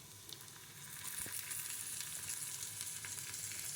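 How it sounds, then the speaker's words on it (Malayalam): Broccoli soaked in turmeric, drained of its water, sizzles and fries steadily in a pan, a close, continuous crackling hiss with no talking. "ഇനി നമ്മൾക്ക് മഞ്ഞൾപ്പൊടി ഇട്ട് വെച്ചിരിക്കുന്ന ബ്രൊക്കോളിയിൽ വെള്ളമെല്ലാം കളഞ്ഞിട്ട് ഇതിലേക്ക് ഇട്ട് കൊടുക്കാം."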